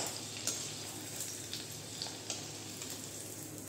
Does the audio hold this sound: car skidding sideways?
no